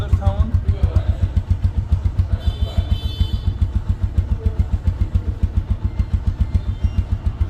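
Close, loud TVS Apache RTR 160cc motorcycle engine in fresh condition idles with a steady, rapid, even thump of firing pulses, while someone talks over it.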